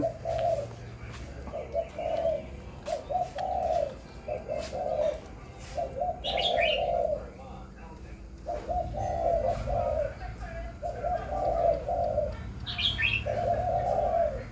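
A hybrid spotted dove gives repeated soft, rounded coos in evenly spaced phrases, close by, with a few faint higher chirps between them.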